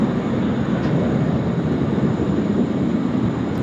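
Qantas flight 67, an airliner departing Sydney Airport for India, gives a steady broad jet roar at moderate distance, even and sustained with no voices.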